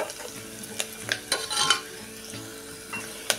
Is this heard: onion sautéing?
yes